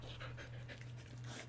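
A person breathes heavily in quick, rhythmic pants, each breath a soft airy puff, close by but quiet.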